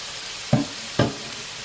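Shrimp frying in a hot pan give off a steady sizzle, and two short stirring clacks land about half a second apart, close by with no voices.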